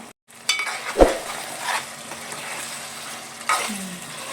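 Marinated chicken drops into hot oil in a pan for a cashew chicken gravy, setting off a loud sizzle with spoon stirring and scraping, then a steady frying hiss that flares again near the end.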